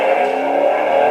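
A Dodge SRT-4 launching with grippy tires after a burnout, its engine note rising in a steady, loud, close drone through a brief burst of acceleration with no talk.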